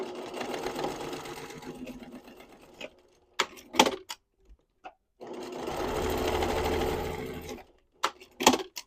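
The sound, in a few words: sewing machine sewing seams of tote bag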